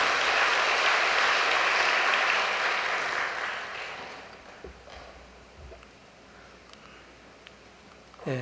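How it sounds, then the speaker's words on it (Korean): A large audience claps in thanks for Niger's prime minister, a dense, full round of applause that holds steady for a few seconds, then thins out and dies away to scattered claps. "우리 니제르 총리 위해서도 다시 한번 감사의 박수를 보내주시면 고맙겠습니다."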